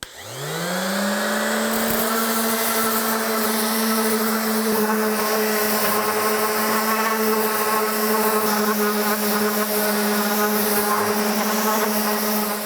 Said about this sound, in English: I'm gonna use 120 grit sandpaper on a random orbital sander